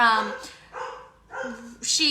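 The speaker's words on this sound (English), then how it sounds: "Sorry about the dogs." Several dogs bark and yip in short bursts indoors, loud and close, with pauses between the barks and a person talking over them.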